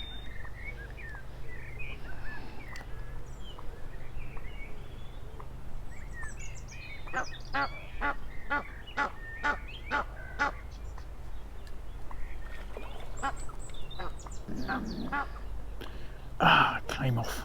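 Noisy geese honk beside a fishery while someone fishes for roach, sending out loud, repeated bursts of calls that cluster in the middle and flare again near the end over a low background hum.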